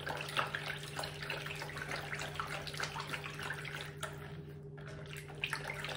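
Lukewarm water runs steadily from a tap for dissolving dry yeast in a home kitchen, a continuous close splashing stream with small drips, no voices.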